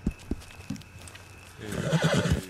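Horse in Red Dead Redemption 2 whinnies loudly in a long rising-and-falling neigh during the second half, after a few soft snorts and hoof clops.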